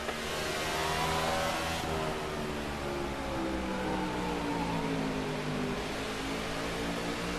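A race car engine in the video game NASCAR 15 roars continuously at high revs, with the pitch sweeping up and down through gear and throttle changes, loud and close throughout.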